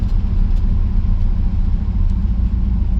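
A car with transmission problems drives along, giving a loud, steady low rumble of engine and road noise with no speech.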